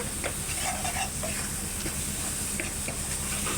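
Ginger-garlic paste and onion paste fry steadily in oil for a chicken capsicum dish, giving a continuous close sizzle and hiss with faint stirring scrapes and no talk.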